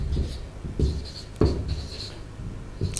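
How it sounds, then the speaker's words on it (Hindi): Marker or chalk strokes on a classroom board during a chemistry lesson: a few short scratchy scrapes and taps in uneven bursts, close and fairly clear, with a little background room noise. "तो यहां लिख देता हूं मैं"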